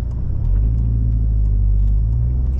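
An Alfa Romeo 147 2.0 TS pulls away from a stop, its engine note rising into a steady, loud low rumble that holds throughout, heard from inside the car with no talk over it.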